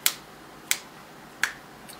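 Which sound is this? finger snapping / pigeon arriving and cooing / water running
finger snapping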